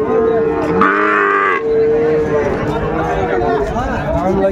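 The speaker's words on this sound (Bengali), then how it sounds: "শাহিওয়ালের ষাঁড় বাচ্চা আমরা দেখছিলাম, কোয়ালিটি সম্পন্ন গরুগুলো।" Sahiwal bull calves at a cattle market in Dinajpur moo loudly and repeatedly up close, with a long, strong call near the start, over a busy crowd of buyers and sellers chattering throughout.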